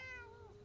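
A cat gives one clear, drawn-out meow with a falling pitch in the video game Fallout 76, quiet and isolated against a soft background.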